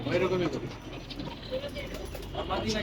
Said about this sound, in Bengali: এই যে নামলো মাসাল্লাহ এগারো নম্বর কবুতরটা নামলো